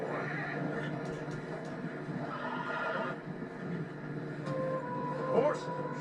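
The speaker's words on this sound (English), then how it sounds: "Horses are struggling." A horse whinnies in deep fresh snow in the Red Dead Redemption 2 video game, a short neigh heard late over steady hoof and ambient game noise with someone talking.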